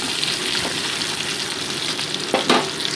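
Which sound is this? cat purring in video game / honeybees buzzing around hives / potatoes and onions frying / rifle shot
potatoes and onions frying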